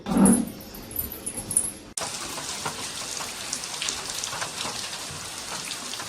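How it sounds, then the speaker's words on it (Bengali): Steady rain falls at a village home, a dense even hiss of drops that sets in abruptly and continues loud and unbroken after a brief opening of other noise. "আমরা এসে পৌঁছলাম তার কিছুক্ষণের মধ্যে বৃষ্টি শুরু হয়ে গেছে"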